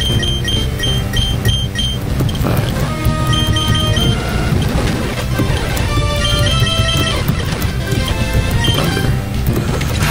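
Rain Dance move effect from the Game Boy Advance game Pokemon Ruby: a dense, loud wash of rushing rain-like noise with layered chiptune tones and crackling hits, continuous throughout without pause.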